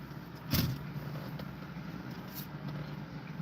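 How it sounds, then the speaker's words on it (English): A red truck drives past on a road, a faint steady rumble of passing traffic with a brief louder swell early on, heard alone without talk. "Here comes another red truck."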